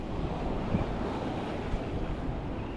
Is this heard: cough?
no